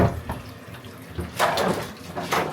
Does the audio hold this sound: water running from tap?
yes